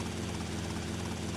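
A helicopter in the video game GTA Vice City gives off a steady, dense rotor and engine whir, fairly faint and continuous with no talk.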